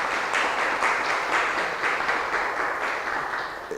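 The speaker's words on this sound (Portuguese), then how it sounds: "Vamos bater palmas para a Sandra." An audience claps warmly for a performer at a cordel poetry talk during a festival, dense applause with individual claps audible in a steady rhythm, fading slightly toward the end.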